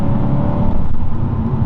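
A stage 2 mapped BMW M3 E92 with a decat exhaust drones steadily and loudly from inside while driving, a dense low engine rumble with no voices.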